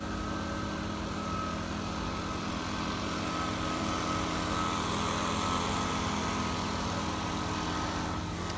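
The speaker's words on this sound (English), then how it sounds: "we've got some blowers going on right now" Outdoor blowers running nearby, a steady whining engine drone with constant broadband noise and tonal hum, continuous and moderately loud throughout.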